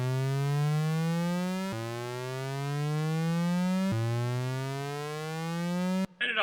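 An analog synthesizer LFO set to a sawtooth waveform sweeps the pitch of a buzzy tone in slow upward ramps, each one snapping back down and starting again, three times before it cuts off.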